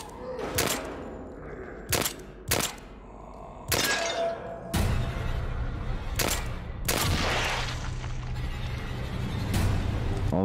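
Gunshots fired in the horror video game The Evil Within 2: about nine loud, sharp single reports spaced irregularly, each with a brief crashing tail over a low droning game background.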